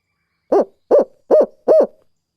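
A Brute hoot owl call is blown by hand, giving four evenly spaced, clear hoots, each short and rounded, loud and close with silence between them.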